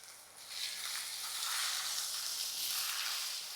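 Tomato dropped onto softened onion in a hot pan for a Konkani vegetable dish, giving a steady, close broadband sizzle that swells after the first half second and holds, with no talking.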